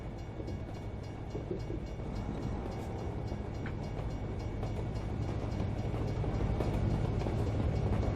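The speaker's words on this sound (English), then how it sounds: "Get a nice treat here to be able to see a train pass by right off the get-go." A train rolls past in American Truck Simulator, a dense, steady rumble of rail wheels and rattling cars that swells slightly louder toward the end, with no voices.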